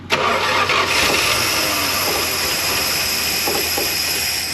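An old abandoned van's engine cranks and catches with the choke set, then settles into a loud, steady, rough idle close to the microphone, with no talking.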